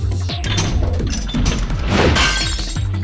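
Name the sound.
glass breaking in video game Virtue's Last Reward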